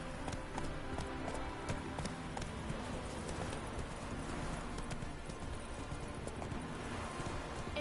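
Horse hooves galloping in The Witcher 3, a continuous rapid clip-clop rhythm at steady volume throughout, close and busy.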